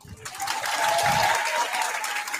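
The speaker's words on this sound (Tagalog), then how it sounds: "Ang hina naman ang palakpak nyo." Crowd applause at a political rally for a senatorial slate, a dense even clatter of clapping that swells and holds steady to the end.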